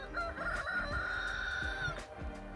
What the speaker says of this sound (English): Just listening to this rooster here